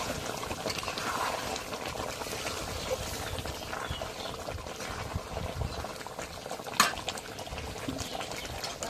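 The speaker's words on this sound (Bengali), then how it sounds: "আলুগুলো এখন দিই, একটু নাড়া দিই" Potatoes go into a pot of home-raised duck curry and are stirred: a close, continuous bubbling and sloshing of liquid with a brief sharp clink near the end, and no talking.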